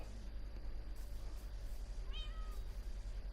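A cat meows faintly once in the background, a short rising call partway through, buried under a steady electrical hum and low room noise.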